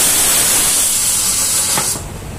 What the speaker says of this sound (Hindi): कुकर का सीटी भी आ गया